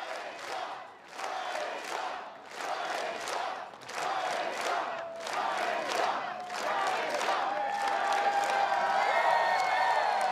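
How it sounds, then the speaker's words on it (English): A crowd at a strongman stones-over-hitching-post event at the 2021 Rogue Invitational cheers and shouts in repeated swelling waves, then settles into a continuous roar with applause. "a look at his response from the crowd for Brian"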